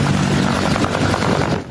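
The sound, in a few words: military combat helicopters taking off and landing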